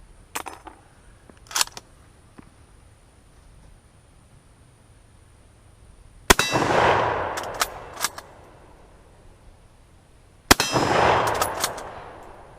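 Rifle shots hit a steel target, two loud cracks several seconds apart, each followed by a long ringing, noisy decay, with fainter clicks and knocks between them.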